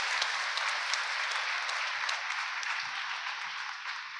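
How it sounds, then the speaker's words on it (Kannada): Steady applause from an audience at a church ceremony installing a parish priest, a dense even wash of many hands clapping at moderate volume without a break. "ನಾವೆಲ್ಲರೂ ಜೋರಾಗಿ ಚಪ್ಪಾಳೆ ತಟ್ಟಿ ಅಭಿನಂದನೆಯನ್ನು ಸಲ್ಲಿಸೋಣ"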